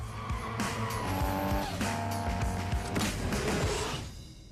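A car drifting in a film stunt sounds like a loud roaring engine with long, sustained tire squeals and skidding, close and intense, and the engine tone climbs and shifts before it fades out at the end.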